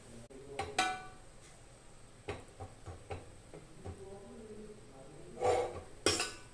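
A spoon works through cooked lentils with asafoetida and onion in a pot, giving scattered metallic clinks and scrapes in uneven bursts, with a couple of louder clangs near the end.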